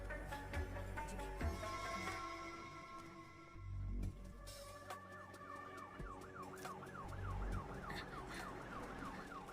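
An ambulance siren wails in a rising and falling pattern, fairly close and steady, over a low hum of traffic and engines.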